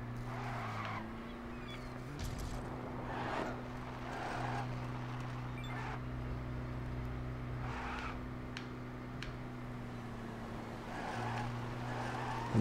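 A Lego City Undercover vehicle drives along with a steady engine hum, interrupted by periodic bursts of skidding or rushing noise, sustained throughout at moderate loudness.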